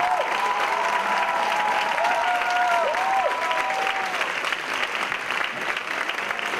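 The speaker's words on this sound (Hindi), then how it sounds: "तबला जोरदार तालियों से स्वागत करें" Loud, dense audience applause at a music and dance festival, a continuous wash of clapping with a faint wavering tone drifting over it.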